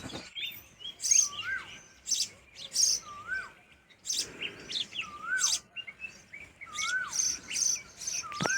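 Sparrows chirping in short, bright bursts with repeated sweeping calls, fairly close, over a quiet village background with faint insects.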